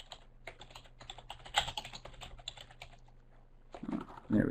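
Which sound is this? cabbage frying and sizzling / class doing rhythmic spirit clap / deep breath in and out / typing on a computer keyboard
typing on a computer keyboard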